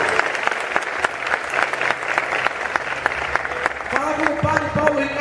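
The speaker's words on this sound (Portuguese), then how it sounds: "Vamos dar uma salva de palmas para Nossa Senhora." Congregation applauding during a Catholic church gathering, a steady wash of many hands clapping throughout with sharp individual claps standing out, and voices and a sustained tone entering near the end.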